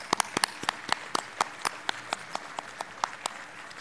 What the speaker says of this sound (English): Perhaps we could give them a round of applause for that work at that age.